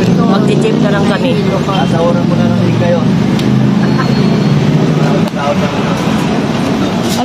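A jeepney ride in the Philippines: steady, loud engine drone and road rumble continue without a break, with voices mixed in.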